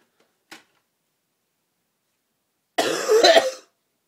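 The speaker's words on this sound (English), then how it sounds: "I'm sorry for the coughing." Someone with a cold gives one faint short cough, then after a pause a harsher, louder fit of coughing and throat clearing close to the microphone, heard alone in a quiet room.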